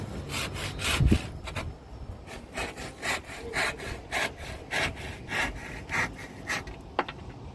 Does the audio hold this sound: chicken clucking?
no